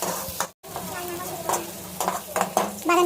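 Onions frying in oil for a mutton curry, a close, loud sizzle with stirring clatter against the pan, a brief dropout early on, and a bit of background voice.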